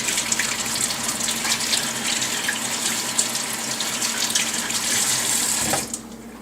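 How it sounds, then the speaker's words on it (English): Tap water runs steadily into a sink as hands are washed during cake baking, a loud continuous hiss and splash close by that cuts off near the end, with no voices. "Wash my hands yet again."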